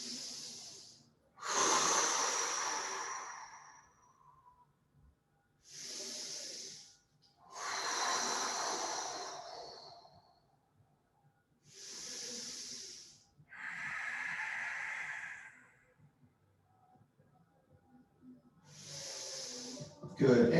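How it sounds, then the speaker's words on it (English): Slow, deep breathing during a yoga exercise, with five long airy inhales and exhales spaced a few seconds apart with quiet pauses between them, close and soft, heard alone. "We'll take 5 deep breaths."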